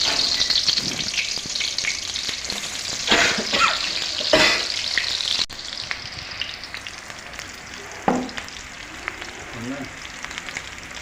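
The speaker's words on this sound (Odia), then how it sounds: "ପିଆଜ ଘାଣ୍ଟୁଛି" Onions frying in hot oil for a country chicken dish, with a loud, close, continuous sizzle and repeated scraping stirs of a spoon through the pan. A voice briefly speaks over the cooking.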